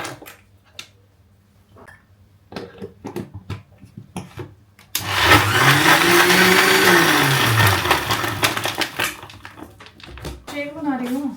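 An electric blender making a shake whirs loudly for several seconds, its motor pitch rising and falling, with clinks and handling before it and someone talking around it.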